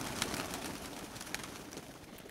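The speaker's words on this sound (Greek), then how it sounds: "Πετάει τα περιστέρια τώρα, τα βγάζει έξω." Pigeons being released from a loft coo and call near the microphone over a constant background hiss, with a few brief sharper sounds in a short stretch.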